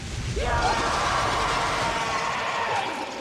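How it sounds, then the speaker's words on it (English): The Ant King from the Solo Leveling anime lets out a loud, sustained, rasping scream that holds steady for about three seconds with a rough, roaring texture. "the Ant King scream as well was just amazing, too"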